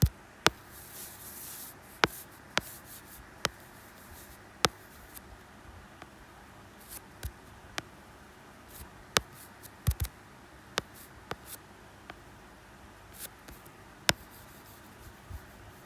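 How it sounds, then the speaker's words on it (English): Pencil sketching on paper: close, quiet scratching strokes broken by sharp taps and clicks at irregular intervals, with no voices. "I'm gonna have to sketch this down now"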